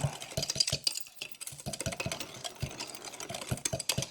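A thick meatloaf mixture whisked by hand in a bowl, rapid rhythmic thumping and slapping strokes close up, steady and moderately loud with a brief pause partway through.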